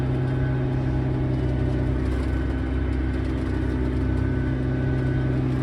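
Fendt 1167 Vario MT tractor engine driving on a farm field, a steady low drone with a constant mid-pitched whir, close and unbroken throughout with no talk.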